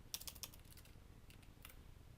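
Keys clacking on a computer keyboard in short bursts, a quick cluster of taps followed by a few scattered strokes, close and fairly soft over a low hum.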